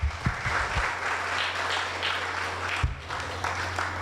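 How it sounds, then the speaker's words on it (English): Audience applause at an academic research day session, a steady wash of clapping filling the room for several seconds, fairly close, with a low hum underneath and a brief thump near the end. "Give him a round of applause."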